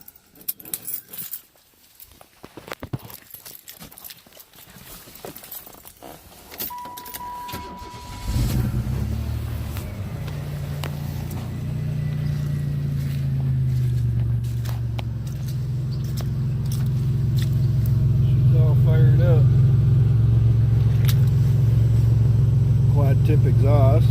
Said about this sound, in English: I could probably start the car up right now.